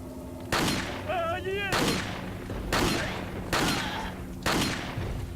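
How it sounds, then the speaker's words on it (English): Heavy gunshots in Resident Evil 4, fired in the dark: about five loud, booming blasts spaced roughly a second apart, each trailing into a decaying rumble, with a brief warbling game sound between the first two. "I'm trying to shoot in the dark, and I can barely see the guy, but I guess it worked"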